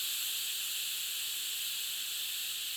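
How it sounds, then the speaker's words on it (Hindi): A pressure cooker vents steam in a continuous loud, high hiss, steady and unbroken from start to end, with no talking. "प्रेशर कुकर की भाप मुक्त करके इसे तीव्र आंच पर रखते हैं।"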